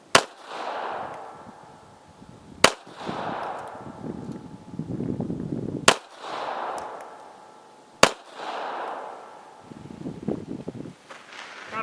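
A Taurus Spectrum pistol fires four sharp, loud shots at a shooting range, unevenly spaced a few seconds apart, with quieter handling and rustling noises in the gaps between.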